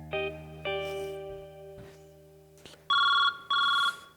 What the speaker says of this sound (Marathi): रिंग वाजते, रिंग वाजते.